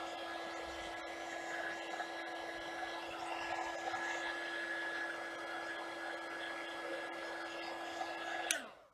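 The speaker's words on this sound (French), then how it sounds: "Je vais juste passer un petit coup de heat gun pour vraiment sécher." A heat gun blows a steady, even whir while drying a paper card. It runs close and continuous for nearly nine seconds, then cuts off abruptly at the end.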